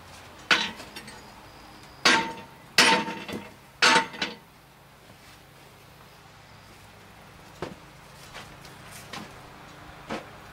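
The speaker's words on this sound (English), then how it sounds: "Well, now we had a hammer." Sharp metallic blows of a hammer breaking up gray cast iron outdoors before a melt, a few loud clanks early on followed by fainter scattered knocks and clinks.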